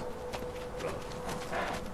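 Hooves of a white horse clip-clop in the video game Shadow of the Colossus, a steady walking rhythm of soft thuds over a hissing ambient background, with no talking.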